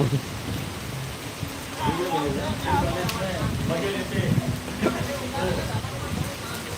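Rain falls steadily in Panthawada, a continuous wash of noise heard beneath people talking nearby for most of the stretch.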